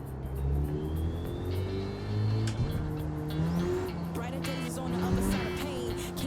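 A racing car's engine heard from the interior in a video game, fitted with sports racing tyres, drones and revs through shifting pitches with squealing tones, loud and close throughout.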